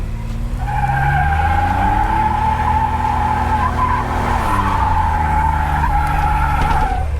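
A 1987 Buick Grand National's rear tires spin under turbo boost, a loud sustained screech over the droning engine, with the pitch dipping briefly midway.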